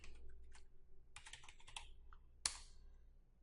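A password is typed on a computer keyboard in quick, quiet key clicks, with clusters of taps and short gaps, one sharper keystroke standing out near the middle, and no talking.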